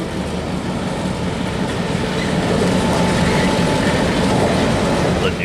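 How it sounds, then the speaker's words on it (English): A New Orleans Public Belt Railroad train rolls out of a rail yard toward downtown on a hot, humid summer day, its steady rumble and clickety-clack of wheels holding constant and fairly loud throughout, with no voices. "The New Orleans Public Belt Railroad is seen coming out of CN's Mays Yard, heading towards downtown"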